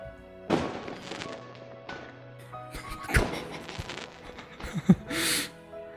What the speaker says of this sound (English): The loud sound of firework go off makes us both jump